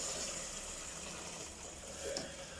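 Hot water pours steadily into a cooking pot on the stove for a soup with tomatoes, peppers and vermicelli, a continuous rushing wash with a slight splash near the end.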